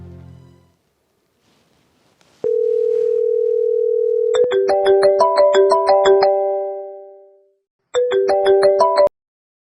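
A phone call rings out in a steady dial tone held for about two seconds, followed by a bright, repeating synthesized ringtone melody that fades, then starts again briefly, with no one speaking.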